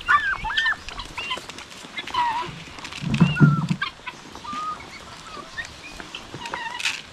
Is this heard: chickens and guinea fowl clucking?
yes